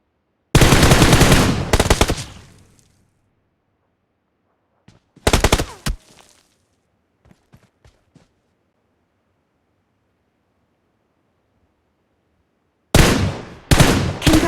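Machine-gun fire in the mobile shooter Battle Field 3D comes in three loud, close, rapid-fire bursts, separated by long silences broken only by a few faint clicks.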